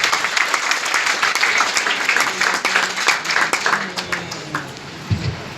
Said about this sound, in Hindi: एक बार जोरदार ताली बजाइए भाई